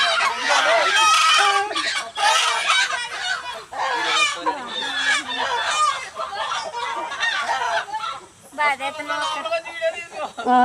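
Chickens cluck and squawk busily throughout, close by and loud, with a rooster crowing among them and people talking underneath, as the birds are carried off ahead of Godavari river flooding.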